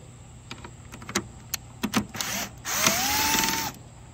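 A power tool whirs in short bursts then a longer steady run while removing four 10 mm hex bolts on a Ford Bronco grille, with clicks and rising whine, close and fairly loud.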